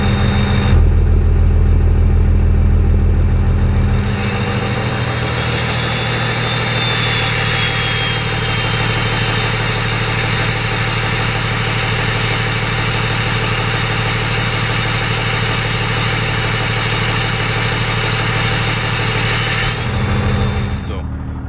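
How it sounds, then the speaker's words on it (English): A 1985 Dodge W-350 diesel engine idles loudly nearby, its low rumble dropping into a strained, droning load from the exhaust brake for a long stretch before easing back. "so you can hear that's loading the engine up"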